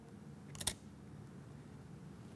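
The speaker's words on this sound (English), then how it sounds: "When it is, I push the shutter" A camera shutter fires once during macro photography, a short crisp mechanical click-clack near the start against a quiet room hum.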